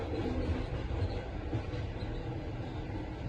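Inside a carriage of a Russian sleeper train rolling on its rails, a steady low rumble with faint rhythmic wheel knocks continues throughout, with no voices.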